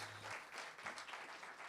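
Quiet, distant clapping from an audience at a book club stage performance continues steadily for a moment, faint and somewhat muffled.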